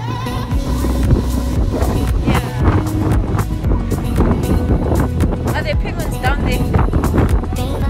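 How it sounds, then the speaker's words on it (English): Strong wind at Boulders Beach in Cape Town buffets the microphone in a loud, continuous roar with gusty rumble, while people talk over it. "Ugh, it's so windy."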